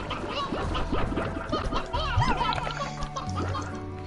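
Blocky cube chickens in a video game cluck in short bursts, mixed into a busy game soundscape with chuckling and background noise throughout.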